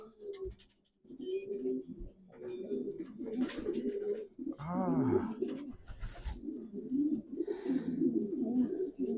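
Racing pigeons coo in a loft as birds return from a 500 km race flight, soft throaty coos repeating close by in several overlapping bursts, with a faint high call and small rustles between them.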